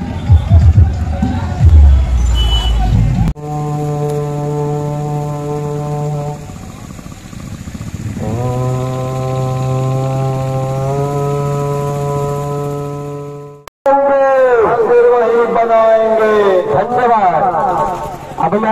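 Loud amplified music with sustained tones blares from a sound system at a Bajrang Dal Shaurya Yatra procession in Hazaribagh, with a crowd murmuring around it; the music cuts briefly near the end before resuming.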